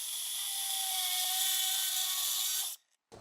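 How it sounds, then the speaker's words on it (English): An old 15 amp, 6,000 RPM heavy-duty angle grinder with a cutoff disc cuts steel in a loud, steady high-pitched whine that stops abruptly near the end, leaving a brief silence. "So I'm going to use this cutoff disc, clip off one inclusion"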